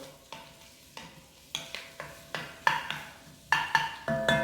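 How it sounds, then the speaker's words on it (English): Onions sizzling in hot oil in a pan over high heat, stirred with repeated scraping and clinking strokes that come in uneven bursts over a steady fry, close up and with no talking. "first you want to do is stir it around so they get coated with the oil"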